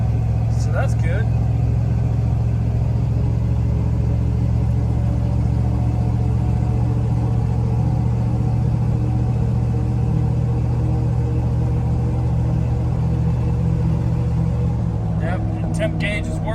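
A 1973-87 Chevy/GMC pickup truck cruises down the road, its steady low engine rumble and road drone filling the cabin throughout, with someone talking over it now and then.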